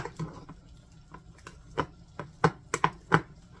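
A spoon works ingredients together in a bowl with a close run of soft, irregular knocks and scrapes, heard alone without any talk.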